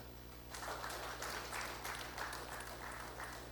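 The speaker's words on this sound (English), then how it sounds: "can we have a huge round of applause for yourself?" Applause from the audience at an education leadership summit in India, fairly faint clapping that begins after a short pause and continues steadily over a constant low electrical hum.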